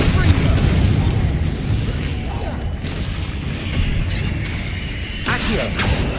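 Bombarda spell blasts from the Hogwarts Legacy video game, booming bursts amid a dense, loud mix of combat effects and game sounds that runs throughout.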